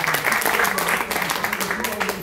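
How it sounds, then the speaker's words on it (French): Audience applause for two local drivers at the 2011 Antibes rally, a fairly loud, dense clapping that carries on under people talking nearby throughout. "Applaudissements pour ces deux locaux."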